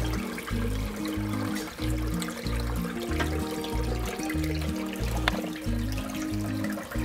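Dirty water draining from a Whirlpool 7 kg semi-automatic washing machine, a continuous trickling gush under background music.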